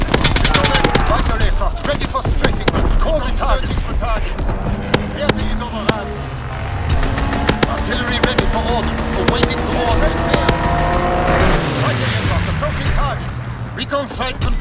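Rapid gunfire and heavy explosions in a Call of Duty WW2 match on Shipment 1944, dense close bursts of shots cracking continuously with occasional deeper blasts, alongside radio-style voice callouts.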